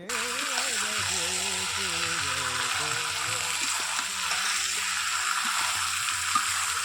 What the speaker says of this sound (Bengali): এখন দেখো চিকেনটা রান্না করছি